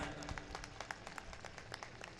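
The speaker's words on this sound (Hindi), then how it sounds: "एक बार उनके लिए जोरदार तालियां हो जाए।" Applause from a large gathering at an Arya Samaj convention in Moradabad, a dense, fairly faint patter of many hands clapping steadily throughout.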